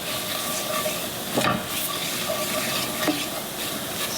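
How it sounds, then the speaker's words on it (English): Medium-colored gravy sizzles steadily in a frying pan on the stove while being stirred, a continuous close hiss with a couple of brief scraping strokes of the spoon against the pan. "you hear all the sizzle in there still?"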